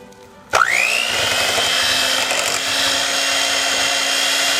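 An electric mixer beats honey cheesecake batter made with wildflower honey, starting abruptly with a sharp spin-up whine and then holding a steady, loud, close whir with no talking over it.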